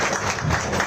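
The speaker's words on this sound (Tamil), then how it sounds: "பலத்த கரகோஷம் வருக வருக என்று வரவேற்று கேட்டுக்கொள்கிறேன்" A crowd gathered to welcome the Chief Minister at a ration card event in Perambur breaks into applause, a brief, dense patter of clapping.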